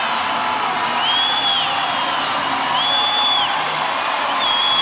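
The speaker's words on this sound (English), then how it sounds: "Listen to the crowd urging him home." Swimming arena crowd at an International Swimming League match in Budapest cheers a swimmer toward the finish, a continuous roar of voices with whoops and rising shouts rolling on steadily.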